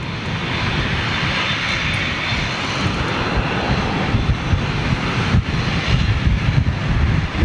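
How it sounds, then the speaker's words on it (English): Airbus A350 jet engines (Cathay Pacific's first A350 at Manchester Airport) roar loud and steady with a deep broadband rumble, plus a touch of wind buffeting on the microphone throughout. "Those LEAP 1A engines sounded like little Gen X"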